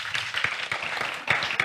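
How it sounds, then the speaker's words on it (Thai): An audience applauding at a dessert-making startup workshop event, with dense steady clapping from many hands that swells briefly toward the end, close and continuous. "ขอเสียงปรบมือให้กับคุณสรัญญาหน่อยครับผม"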